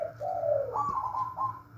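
A zebra dove (perkutut or merbok) coos close by, a short sequence of soft, rolling notes that dip and rise, clear and alone against a quiet background.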